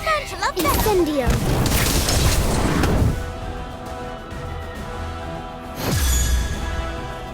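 An Incendio fire spell blast in Harry Potter: Magic Awakened, a rushing whoosh building into a roaring burst that fades, then a second surge of blast noise a few seconds later.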